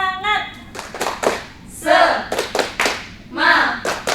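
A class of schoolchildren does a rhythmic spirit clap in a junior high biology classroom, with a few sharp clap bursts mixed among loud voices chanting and calling out together.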